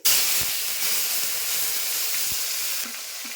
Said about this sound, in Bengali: শুকনো লঙ্কা দিচ্ছি, পাতা দিচ্ছি, টমেটো দিয়ে দিচ্ছি